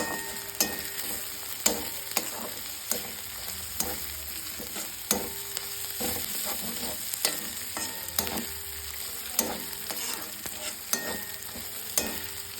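Chicken sizzles in a pan with garlic and green chillies, a steady frying hiss broken by regular scraping clicks of a spatula stirring about once a second, close and clear.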